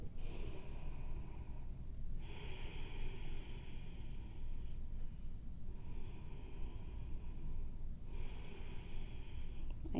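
Slow, deep breathing during a yoga neck stretch, three long airy breaths with soft pauses in between, close and quiet in a calm room.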